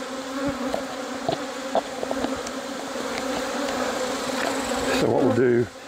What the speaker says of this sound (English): you can see all the bees down in here.